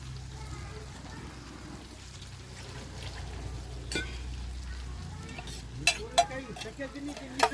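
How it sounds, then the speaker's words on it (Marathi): Vegetable curry sautéing in oil in a pan gives a soft, steady sizzle with stirring, broken by several sharp spoon clinks against the pan near the end. "आता याला मस्त परतून घ्यायचं आपल्याला."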